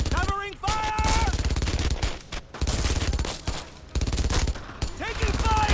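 Machine gun fire in a World War II squad shooter on the original Xbox, a loud, continuous rapid rattle of bursts with brief gaps. Shouted voices and other gunfire mix in.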